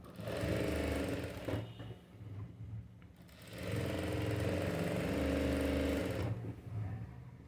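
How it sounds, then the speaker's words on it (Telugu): A sewing machine stitches around a boat neck blouse, running in two long steady whirring bursts with a brief pause between them, close and moderately loud, with no talk. "ఇలా ఇలా పెట్టేసి ఇక చుట్టూ దీన్ని మనం కుట్టు వేసేసుకోవాలి"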